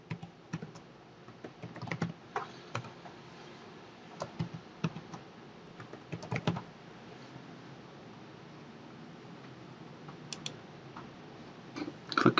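Computer keyboard typing as a password is entered, bursts of fairly quiet key clicks in irregular clusters, with short pauses between runs and a few louder taps near the end.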